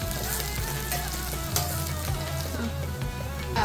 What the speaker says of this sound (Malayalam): വെളുത്തുള്ളി, പച്ചമുളക് ഇതെല്ലാം ഇട്ടതിന് ശേഷം ഇളക്കുക